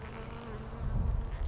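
Bees swarming on a Nashi pear tree give a steady, dense buzzing drone that swells louder toward the end, with no voices.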